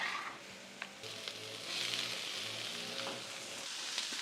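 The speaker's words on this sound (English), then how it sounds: "get these onions, get these peppers nice and sauteed" Onions and peppers sautéing with avocado oil on a Blackstone griddle, a soft steady sizzle with a few faint scrapes, fairly quiet and with no speech.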